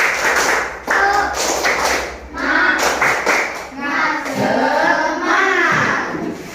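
Children in a classroom do a rhythmic spirit clap together, bursts of patterned hand claps and taps mixed with chanted voices and some excited talk, loud and close.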